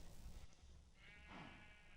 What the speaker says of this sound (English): We may as well put all these sheep in a sheep farm.